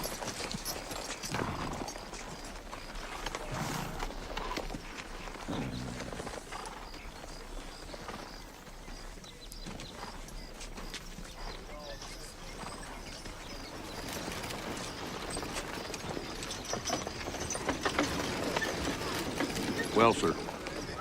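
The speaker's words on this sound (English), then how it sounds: "Mr. Redding, here's your horses." Horses walk with a steady clip-clop of hooves in an outdoor Western town setting. The hoofbeats sound moderately near but stay low beneath ambient noise and some voices.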